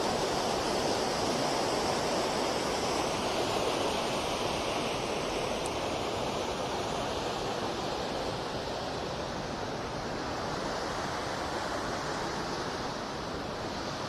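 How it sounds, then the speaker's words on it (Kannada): Fast water rushing through Nedungal Dam, a reservoir in Krishnagiri near Kaveripattinam, makes a steady, loud, broadband roar that continues unbroken from start to finish, with no voices over it. "ಇಲ್ಲಿ ನೀರು ಭಾಳ ರಭಸವಾಗಿ ಹೋಗ್ತಾ ಇದೆ."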